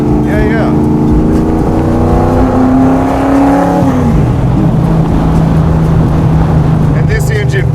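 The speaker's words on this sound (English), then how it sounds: "And this engine probably comes alive higher up in the RPMs." A '67 Ford FIA Fastback Mustang street car engine revs up loudly and close, holding a climbing pitch before dropping back to a steady throaty idle.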